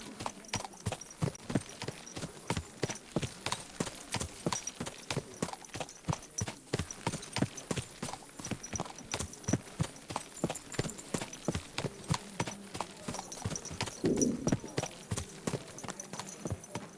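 Steady rhythmic clip-clop of horse hooves at a trot in the video game Kingdom Come: Deliverance II, continuous and moderately close, with a brief snort near the end.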